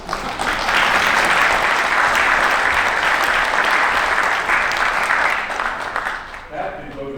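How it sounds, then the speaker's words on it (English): An audience at a 75th anniversary of Iwo Jima evening event gives a sustained round of applause, dense clapping holding strong for several seconds before thinning out as a voice begins to speak. "Round of applause."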